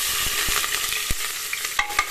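Onion drops into hot oil with cumin in a pressure cooker, and a busy crackling sizzle follows. Several soft thuds and stirring knocks sound under it, close by.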